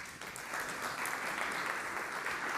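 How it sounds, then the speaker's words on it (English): Audience applause fills a conference hall after a speaker is introduced at a session on public service media and democracy: a dense, steady wash of many clapping hands, sustained throughout. "Let's give him a round of applause."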